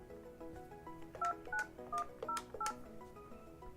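Keypad tones on a Yealink desk phone enter an extension number into a 3CX voicemail system, five evenly spaced, clear beeps standing out over faint background hum.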